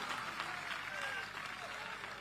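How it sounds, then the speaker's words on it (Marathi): A crowd at a political rally claps to welcome arriving party workers, giving a sustained roll of applause with faint cheering and a few thin whistle-like tones threaded through it. "पठारावरून आलेल्या कार्यकर्त्यांचं जल्लोषात टाळ्या वाजून स्वागत करा."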